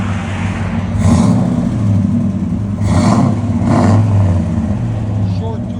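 A 454 big block Chevy K2500 truck with headers, downpipes and a Flowmaster 40 series exhaust rumbles at a deep, steady idle nearby, swelling slightly in a few brief blips, while a person talks over it.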